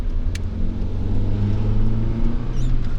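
A Proton Wira car, just repaired after an oil leak, drives along with a steady, low engine hum and road rumble, fairly close and unbroken, with no voices.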